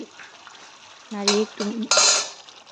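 Fish pieces for a Bengali fish kalia sizzle in a pan under a steady frying hiss, with a few louder scrapes and clinks of a utensil stirring them near the end.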